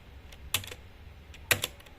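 Computer keyboard keystrokes during network configuration work, two sharp, close clusters of clicks about a second apart, each a quick double tap like pressing Enter, over quiet room tone.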